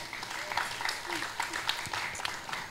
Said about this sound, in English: Everybody say hello and clap